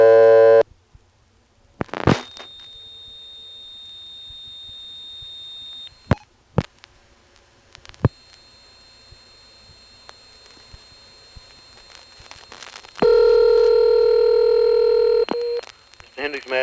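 A 1978 telephone line from Bowling Green, Virginia, after dialing 0 for the operator: clicks, a long steady tone, more clicks, then a loud multi-tone signal before a voice answers.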